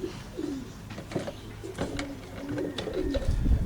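Pet pigeons coo softly in repeated low, rolling calls at close to moderate range, several overlapping in an irregular rhythm against a quiet background.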